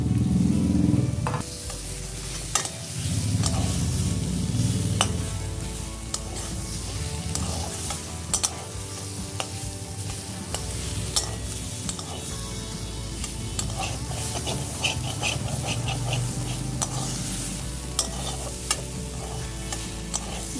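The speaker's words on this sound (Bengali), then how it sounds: "বেগুনটা এবার ভালো করে শাকের সাথে মিশিয়ে দিলাম" Fried eggplant is stir-fried with data greens in a pan, a continuous loud sizzle broken by repeated scraping and stirring clatter from a utensil, with no voices.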